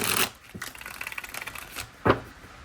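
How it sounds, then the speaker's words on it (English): A Lo Scarabeo tarot deck is shuffled by hand, producing rapid papery riffles and soft clicks of cards, with a sharper slap near the end, close and alone. "has to be one of my favorite and easiest decks and cards to"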